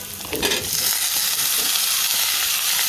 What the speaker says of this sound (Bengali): এখন দিয়ে দিলাম আস্ত জিরা আস্ত জিরাটা একটু নেড়ে দিয়ে